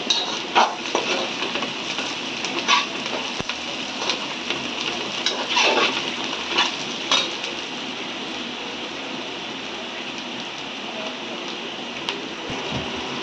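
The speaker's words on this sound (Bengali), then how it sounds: "এলাচ দারচিনি তারপরে তেজপাতা দিয়ে এবার ভালো করে ভেজে নেওয়া হবে" Cardamom, cinnamon and bay leaves frying in beef fat for a beef khichuri, making a continuous, close hiss dotted with sharp crackles and pops, heard on its own without talking.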